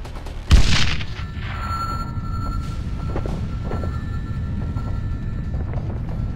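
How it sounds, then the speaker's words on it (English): A heavy missile explosion in the video game Sniper Ghost Warrior 2: one loud booming blast, followed by a sustained rumbling roar and a steady hum of aircraft noise with no talking. "Incoming missile!"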